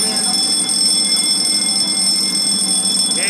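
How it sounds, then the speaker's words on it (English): An FM-200 fire protection system sounds its alarm 1 buzzer at zone 1, a steady continuous electronic tone with several sustained high pitches, loud and unbroken throughout. "Now simulate smoke detectors and gives alarm 1. Buzzer only."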